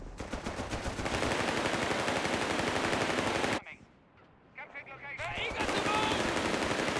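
Rapid bursts from a 2 cm anti-aircraft gun in Company of Heroes 3, an Afrika Korps 4v4 multiplayer battle, hammer loudly and continuously, break off into a brief lull of distant shots, then resume at full force.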